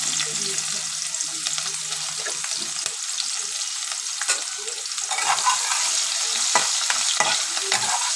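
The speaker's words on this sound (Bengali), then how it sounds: "এবার ফোড়ন দিতে এবার আমি পেঁয়াজ দিয়ে দেবো।" Onion dropped into hot oil for tempering, a steady crackling sizzle with scattered stirring scrapes and clicks, close and fairly loud throughout.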